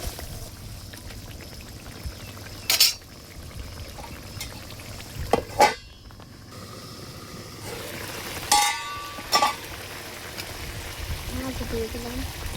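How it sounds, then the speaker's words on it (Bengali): A pot of curry bubbles at a boil after chopped tomato goes in, a soft, steady simmering wash with a few sharp clinks of utensils against the pot. "তরকারি বলক উঠে গেছে।"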